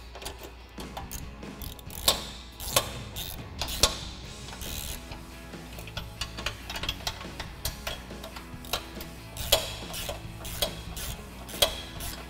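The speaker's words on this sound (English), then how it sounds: "we can go ahead and tighten that down with a 16mm wrench and 16mm deep socket" A ratchet with a 16mm deep socket tightens a bolt while mounting a front bumper on a Jeep Wrangler JL, giving close, repeated clicking strokes in an uneven rhythm with sharper ticks scattered throughout.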